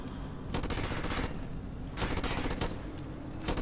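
Bursts of automatic gunfire in the shooter game Black, on Hard Mode, crackle in three dense clusters over a constant loud roar of battle, close and harsh.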